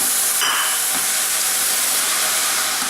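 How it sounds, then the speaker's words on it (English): Raw tomatoes dropped into a hot pan sizzle loudly, a steady, dense hiss close by, with a brief sharper burst near the start as they hit, and no voices. "Now we're going to put the raw tomatoes in"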